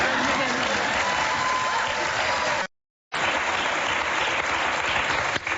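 A studio audience at a daytime talk show cheers and applauds loudly and without a break, a dense roar of clapping and whoops that stops abruptly for a moment before resuming just as full.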